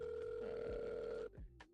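A phone call rings out with a steady electronic tone for over a second, then stops with a few short beeps as it forwards to voicemail, heard faintly and alone.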